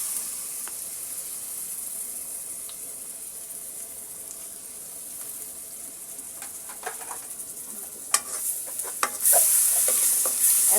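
Ginger garlic paste sizzling in a pan for pulao, with steady soft frying that grows into louder clicking stirs and scrapes near the end; no voices.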